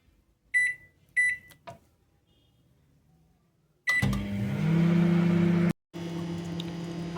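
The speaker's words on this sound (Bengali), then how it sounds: "এটা একটু মাইক্রোওয়েভ করে নেব" A kitchen microwave oven beeps twice as buttons are pressed, then after a short pause starts up with a loud, steady hum and rattle, briefly cuts out, and resumes humming close by.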